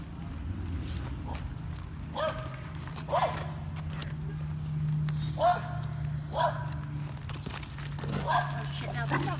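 A dog yips and barks in short bursts while playing outdoors during a leash training session, with a steady low hum underneath and a person talking over it.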